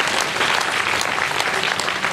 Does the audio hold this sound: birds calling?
no